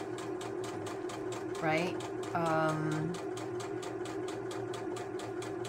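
A serger sewing machine runs steadily with a fast, even mechanical pulse throughout, while a person speaks briefly over it.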